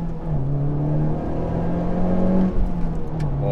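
2018 Honda Civic Type R accelerating on a freshly paved, twisty road, heard from the cabin as a loud engine tone that holds, dips briefly and climbs again over a few seconds.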